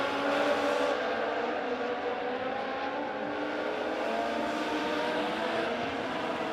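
Legend race cars roar around Springfield Raceway, a steady blended engine drone at a distance with no single car standing out, continuous throughout.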